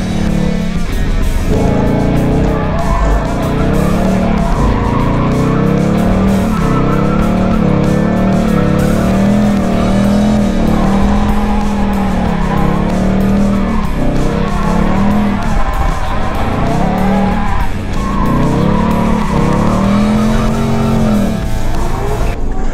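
A drift car's engine roars and revs continuously through a drifting run, with tires squealing over repeated rising and falling sweeps. It stays loud and close the whole time.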